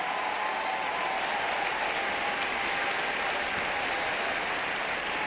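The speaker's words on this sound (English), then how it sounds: "So let's give another round of applause to the next generation of environmental leaders" A ceremony crowd at the Goldman Environmental Prize applauds young environmental leaders with dense, sustained clapping that stays even and loud throughout, a faint tonal hum running underneath.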